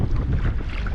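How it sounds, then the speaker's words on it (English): Gusty wind buffeting the microphone over a fishing kayak on a canal, a dense low roar filling one brief moment without speech. "It's miserable to fish in a kayak in the wind"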